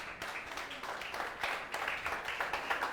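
A standing church congregation claps steadily at a worship service, a dense, even wash of many hands with no voices on top.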